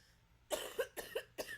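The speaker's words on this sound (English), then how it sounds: "Very sorry about the coughing" Close, harsh coughing in a quick run of bursts, each a rough throaty hack, with brief pauses between them.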